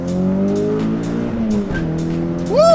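Peugeot 306 GTI with a bespoke custom exhaust accelerating hard in first gear: a loud, close engine drone that climbs, dips briefly, then surges sharply upward at the end.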